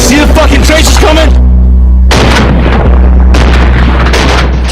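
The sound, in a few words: gunfire during an attack on Marines in Iraq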